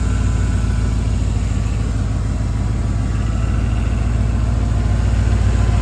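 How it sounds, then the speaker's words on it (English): A 1994 Ford F150 engine running steadily with a worn power steering system, a loud, constant low idle drone with a faint whine on top, close up and uninterrupted, with no voices. "Sounds like that power steering is gonna need to be changed"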